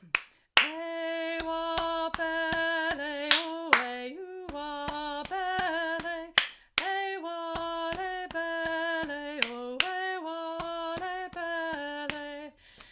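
Choir members clap a steady body-percussion rhythm, sharp hand claps punctuating a sustained sung chord, with brief pauses between phrases, close and clear with no talking.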